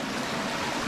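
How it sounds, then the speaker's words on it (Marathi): A forest stream in the Konkan rushes past in a steady, close, full-bodied wash of flowing water, with no voices over it. "हा मस्त वाळ वाहते बघा आमच्याकडे"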